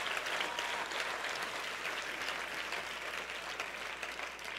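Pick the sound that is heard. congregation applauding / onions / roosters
congregation applauding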